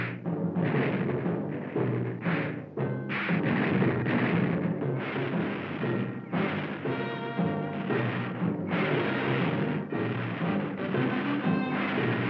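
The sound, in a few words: cartoon weapons firing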